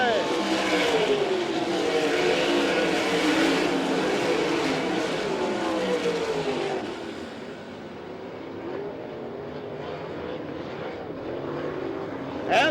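Race cars roar around a dirt track in Wakeeney, Kansas, during an All Stars vs NCRA race, engine drone rising and falling as cars pass, then easing off as the field finishes, with an announcer talking over it.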